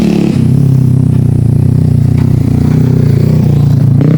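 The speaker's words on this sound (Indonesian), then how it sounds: "Emang sini sering terdengar suara motor ya." A motorcycle engine passes through a forest, a loud, steady droning rumble held close and constant with only slight shifts in pitch.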